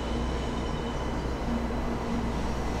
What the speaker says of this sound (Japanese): いいモーター音だ、いいね。